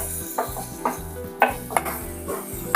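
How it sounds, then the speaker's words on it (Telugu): Chopped tomatoes go into a pan of frying onions for chicken pulusu and get stirred with a metal spatula, giving a steady low sizzle broken by repeated scraping clinks against the pan. "ఇప్పుడు టమాటా వేసేస్తున్నానండి నేను."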